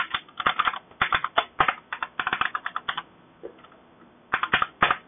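Rapid bursts of typing on a computer keyboard while working in a shell, clicking in quick uneven runs with a long pause partway through, close and fairly loud with no talking.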